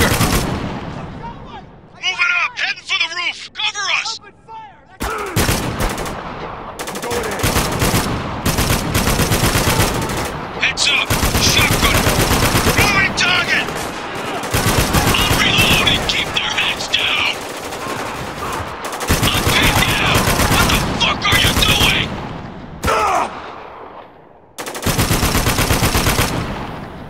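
Heavy gunfire fills a firefight in Spec Ops: The Line, with long automatic bursts cutting in and out in repeated blocks, loud and close, and shouting voices heard between them.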